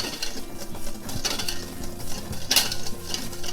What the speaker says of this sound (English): And I just mix that together, or you can use a whisk.